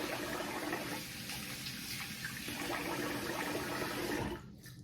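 Cold water splashed onto a face after shaving, a steady rushing, splashing water sound at moderate volume that runs for several seconds before abruptly stopping.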